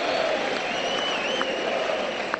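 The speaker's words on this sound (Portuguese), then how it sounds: "Aplaudido Marquinhos, hein?" A stadium crowd at a Brazilian league football match in Porto Alegre, Grêmio against Atlético Paranaense, applauds a substituted player, a steady distant roar of clapping under commentary-free broadcast ambience.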